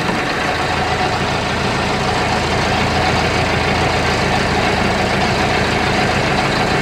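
An excavator's diesel engine idles slowly, a steady loud rumble with broadband mechanical noise that holds unchanged from start to finish, with no talk over it.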